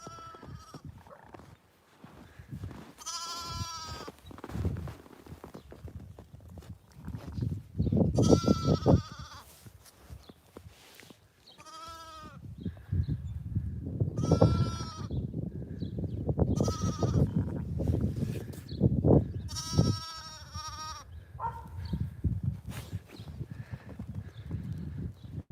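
Goats and sheep bleat repeatedly on a farm around a newborn lamb a few hours old, several loud calls rising over a steady background of rustling, shuffling and hoof movement.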